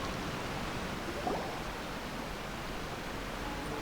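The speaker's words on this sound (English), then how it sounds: "I didn't notice a waterfall." A waterfall in the video game Genshin Impact gives a steady broadband rush of falling water, even and continuous with no distinct splashes, moderately loud and unaccompanied by talk.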